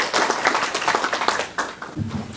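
A hall audience applauds at the 16th Nogeun-ri Peace Prize award ceremony, a dense, steady wash of clapping that thins near the end as a voice begins to speak.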